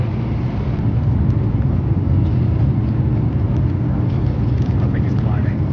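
Inside an airliner cabin in turbulent weather, a constant loud low roar of engines and airflow fills the space, with faint rattles and muffled voices underneath.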